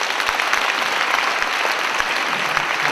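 A church audience claps warmly for the pastor, a dense, steady round of applause from a crowd indoors, with no voices over it.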